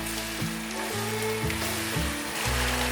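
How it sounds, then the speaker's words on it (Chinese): King oyster mushrooms sizzle loudly in a frying pan as water is poured in, giving a steady dense hiss with stirring under a low background tone. "杏鲍菇略炒一下，把水加进来。"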